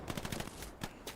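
A faint, distant burst of rapid gunshots from the video game Hell Let Loose, a quick run of shots followed by a few spaced single reports.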